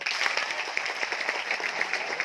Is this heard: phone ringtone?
no